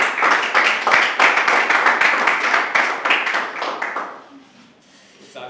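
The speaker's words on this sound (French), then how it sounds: "Acclamons puissamment pour la parole ce matin" A church congregation claps rhythmically and loudly in unison during a Sunday worship service in Treichville, the applause fading out near the end.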